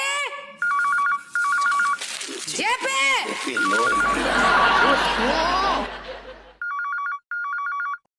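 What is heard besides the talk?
phone ringing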